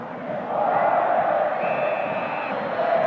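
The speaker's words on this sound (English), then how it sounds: "when Boca Juniors score a goal in this stadium, well, the crowd certainly let the visiting team know" Stadium crowd roaring after a Boca Juniors goal against River Plate in an Argentine Primera División match, a loud sustained swell of massed voices and chanting that rises after a moment and stays full, with a thin whistle-like tone through the middle.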